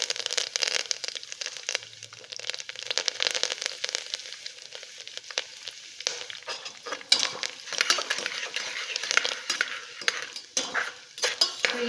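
A tempering of asafoetida and curry leaves spitting in hot oil, with a bright crackling sizzle and bursts of popping alongside occasional metal clinks of stirring, close and steady with no voices.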